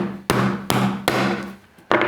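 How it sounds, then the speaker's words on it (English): Hammer blows on a metal tool punching a bearing out of a fidget spinner, four sharp ringing strikes spaced unevenly, close and loud, with no talking. "also use a hammer"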